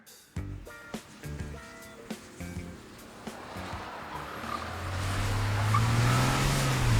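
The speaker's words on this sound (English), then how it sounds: "we are in a diesel 40D, M40D BMW X4 on a skid pad" A BMW X4 M40d diesel is driven sideways on a skid pad, its engine note climbing into a sustained roar as tyre noise builds, loud and close after a few quieter clunks.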